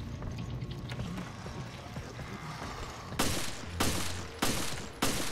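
Gunfire in the video game Resident Evil Revelations: after a stretch of ambient game noise, four sharp shots ring out at roughly even intervals, loud with short decays.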